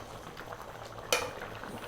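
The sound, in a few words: Greek lamb stew simmering in a pot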